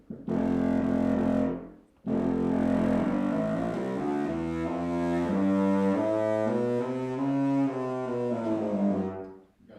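Woodwind instrument played in its middle register at a composers' workshop: a sustained nasal tone after a short opening note, moving through a slow sequence of held pitches, solo and moderately loud.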